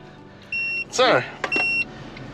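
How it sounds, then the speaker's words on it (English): A car's TPMS tire pressure warning after the tires were let down for off-road driving in remote Australia: two short electronic beeps, each about a third of a second, with someone talking over quiet cabin noise. "On road, it's obviously beeping now because we've let our tires down"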